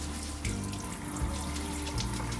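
Tap water runs in a steady, continuous stream into a sink while quinoa is rinsed and stirred by hand, a close, even wash of sound with no talking.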